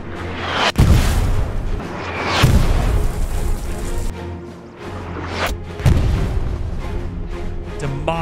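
Artillery rounds in Hell Let Loose fire and burst in a loud, booming sequence, several heavy blasts spaced a second or two apart over rumbling battlefield noise.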